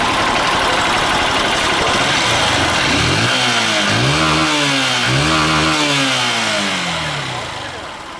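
A fuel-injected Honda Titan 150 motorcycle with a customer-reported lack of power runs loudly and close by, revving up and down in several rising and falling sweeps over a steady engine drone.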